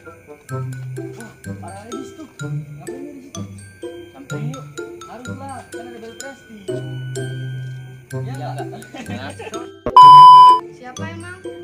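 A ding-dong doorbell chime rings near the end of a scene of a Sundanese comedy drama, a loud electronic tone standing out briefly after people talk over background music.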